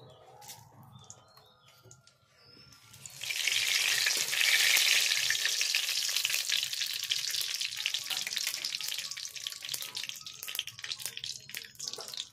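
Sugar hits hot oil in a pan for a ghugni made with fresh green peas. Faint clatter comes first, then a loud, bright, steady frying hiss takes over and holds for several seconds with no talking.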